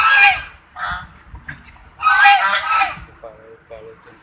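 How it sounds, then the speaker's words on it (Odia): Domestic geese kept at a home pond give a series of loud, close, nasal honks in short bursts, with brief pauses between calls. "ଆଉ ଏଇଠି ହଂସ ପାଳୁଛନ୍ତି ଦୁଇଟା ନୁହଁ, ଆହୁରି ବହୁତ ହଂସ ଅଛନ୍ତି"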